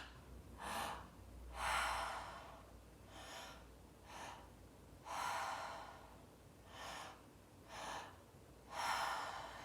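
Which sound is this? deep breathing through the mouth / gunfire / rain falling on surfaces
deep breathing through the mouth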